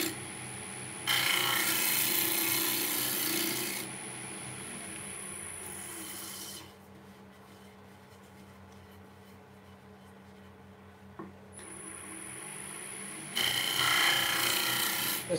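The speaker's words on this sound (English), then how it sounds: "Fine finishing tool. It's a very gentle cut." Fine finishing tool taking gentle shavings off wood, heard as two bursts of steady rasping strokes separated by a quiet pause, close and fairly loud.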